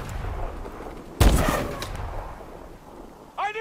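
A single loud gunshot or blast in Call of Duty Advanced Warfare, sharp and close with a ringing decay, followed by quiet and then a brief voice at the end.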